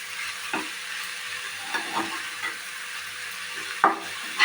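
A grated paneer mixture with curry leaves and ground spices fries in a pan with a steady, close sizzle, broken by several soft scraping stirs of a spatula.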